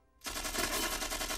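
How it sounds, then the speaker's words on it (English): Sustained, dense rapid-fire burst from an automatic weapon in a cartoon, starting abruptly and continuing loud and unbroken to the end. "That's why we use automatic weapons."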